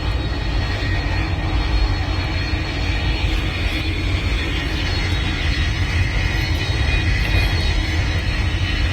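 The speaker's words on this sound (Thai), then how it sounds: "ขับเครื่องบินส่งของนะครับ" Cargo airplane engine roar in a flight simulator game, a steady, dense broadband drone with a faint high whine, continuous and loud throughout without talk.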